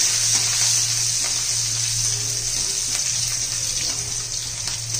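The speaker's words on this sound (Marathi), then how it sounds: "लसूण तांबूस होईपर्यंत आपण परतून घेणार आहे" Finely chopped garlic and green chili fry in a pan with a pinch of asafoetida, a steady close sizzle and hiss over a low hum, continuous and even with no one talking.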